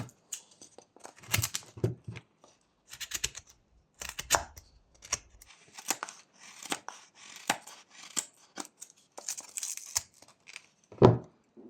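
Small knife making a stop cut into wood while whittling a reindeer figure, quiet crisp scraping and clicking cuts in irregular bursts, close and faint, with no talk.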